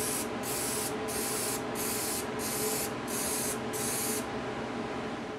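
An aerosol can sprays a frosting coat onto a wooden shadow-casting lamp in seven short, even hissing bursts with brief gaps, close and loud over a steady background hum.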